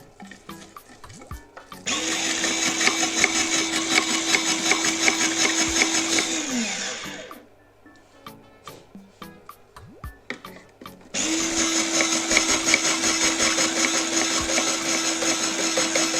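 SILVERCREST SGR 150 D1 electric grater shredding cabbage, two long steady motor whirs with rough grinding over them, separated by a pause filled with small knocks and handling noises.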